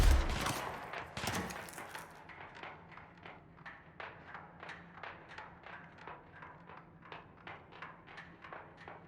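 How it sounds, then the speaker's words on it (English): Explosions in the video game Control: two loud booming blasts come first, then a long run of evenly spaced thudding bursts that repeats steadily and gradually softens. "Why are there explosions?"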